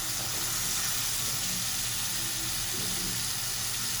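Potatoes sizzling in a pan with spice masala, a steady close hiss and crackle of frying that runs unbroken with no talk over it.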